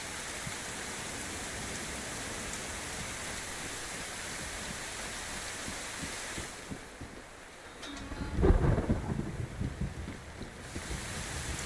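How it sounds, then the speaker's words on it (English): Steady rain falling in the game DayZ, a continuous broadband hiss with wind-like noise, briefly dipping before a louder, rougher burst near the end. "Raindrops are falling on my head."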